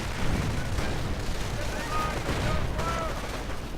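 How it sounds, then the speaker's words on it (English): Gunfire from a Jagdpanther tank destroyer in a World War II strategy video game, a dense continuous barrage of cannon and gun blasts with steady loud rumbling throughout. "Jagd Panther blazing away, although engine damage"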